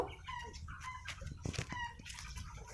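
Chickens clucking and calling in short, uneven bursts, fairly close, with a few brief flutters and other bird sounds mixed in.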